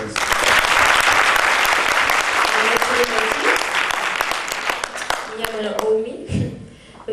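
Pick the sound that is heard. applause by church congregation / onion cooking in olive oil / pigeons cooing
applause by church congregation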